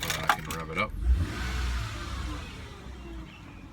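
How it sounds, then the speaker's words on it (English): A 1999 Mercedes-Benz ML320 engine idles close by, with a rev rising from a low rumble after some handling noise and jingling at the start, then settling back to a steady idle. "Currently the car is running, and if you can hear it, I can rev it up."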